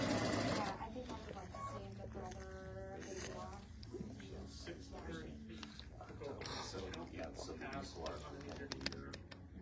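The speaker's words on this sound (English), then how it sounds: "we're just gonna sew these in one long strip" A sewing machine whirs steadily while stitching quilt pieces into one long strip, running continuously under a person talking throughout.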